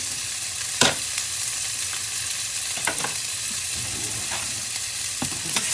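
Garlic sizzles in a hot pan with tomatoes, a steady close hiss broken by a few sharp scrapes and stirring knocks, with no talk.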